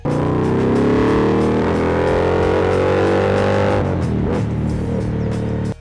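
An Indian Scout Bobber motorcycle engine runs loud and close, a steady revving drone that holds for about four seconds, then drops and rumbles unevenly before briefly surging again.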